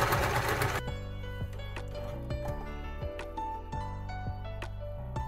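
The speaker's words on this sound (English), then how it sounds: "Now I'm going to use a zigzag stitch to sew this long edge together" A sewing machine running a zigzag stitch along a long fabric edge gives a continuous mechanical whir with rapid rhythmic needle ticking, close and steady, with a brief louder burst at the start and no talking.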